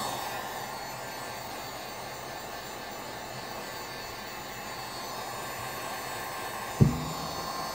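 A heat gun blows steadily to remelt glue on ESC and motor cables, producing an even, moderately quiet airy roar that continues throughout, broken only by a brief soft knock near the end.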